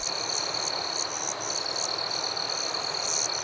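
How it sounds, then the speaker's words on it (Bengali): Crickets chirp at night as a cartoon sound effect, a continuous high, pulsing trill repeating in quick bursts over a constant hiss, with no voices. "চারিদিকে ঝিঝি পোকার ডাক ছাড়া আর কিছুই শোনা যাচ্ছিল না"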